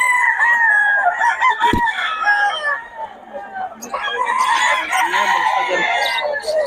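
A young Sweater-bloodline gamefowl stag crows loud and close with a long, strained call, then crows again after a brief pause, with other fowl clucking around it.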